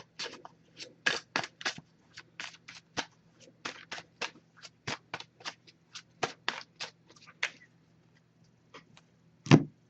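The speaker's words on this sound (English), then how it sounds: "I'm just going to give this a few shuffles." An oracle card deck is shuffled in quick riffling bursts, a close, crisp series of papery flicks with short pauses, ending in a soft tap.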